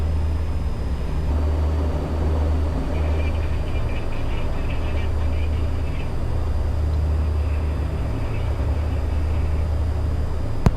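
Steady, loud drone of a de Havilland Dash 7 heard from the cockpit while flying over the Masai Mara, its propeller and engine hum continuous and even throughout with no voices.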